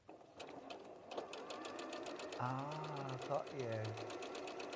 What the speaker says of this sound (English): we're going to sew over that line. But I'm going to shorten my stitch.